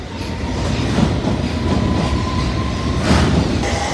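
A train rumbles along steadily with rail clatter and a faint squeal, loud and continuous, no voices.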